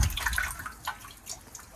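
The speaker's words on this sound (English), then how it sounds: "I'll have a look inside this water butt and see how much water is in there now" Soft trickling and dripping of water inside a garden water butt, faint and close, with small splashes scattered over a quiet background.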